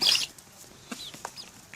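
A chicken or rooster gives a loud squawk, followed by a few short, soft clucks from the flock nearby.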